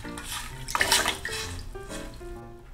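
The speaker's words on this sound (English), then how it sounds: "And add soy sauce into the pot." Soy sauce poured into a pot off the heat while making nikiri sauce for tuna sushi gives a brief, soft liquid splash and trickle, close and fairly quiet, with a faint clink of the pot.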